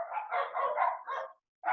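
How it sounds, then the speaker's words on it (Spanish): Several dogs bark in a quick series of loud, close barks lasting over a second, then fall briefly silent before another bark starts. "Perdón, me río por los perros."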